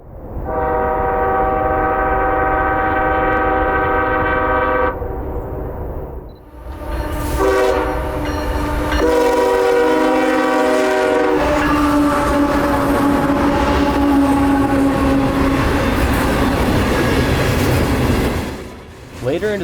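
Freight train B797 in northern Georgia in winter blasts a loud, sustained multi-tone horn, then sounds several more shorter horn blasts as it rumbles past nearby with heavy rolling wheels and grinding.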